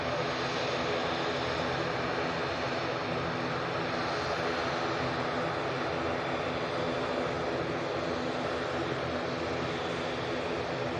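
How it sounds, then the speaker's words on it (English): A jet airliner passes at Manchester Airport, its engine roar a loud, steady broadband rush that fills the whole stretch with a slight swell midway, no talk over it. "Oh, it's definitely a jet."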